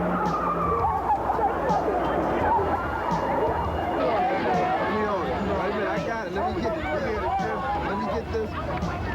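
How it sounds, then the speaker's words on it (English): Several cars skid and squeal their tyres as they turn around to flee during a street riot, with a dense wash of tyre screech over crowd babble and voices talking throughout. "The fortunate turn their cars around to flee, but most are unsuspecting of the danger."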